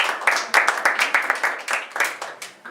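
Applause from a crowd at a municipal council meeting in Saint-Sever, a rapid, dense patter of many hands clapping steadily throughout, close and fairly loud, with no talk over it.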